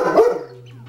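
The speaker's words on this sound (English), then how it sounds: "why are you even barking at? There's nothing out there." A single close, loud dog bark in a game, sharp and brief, with a short tonal tail fading after it.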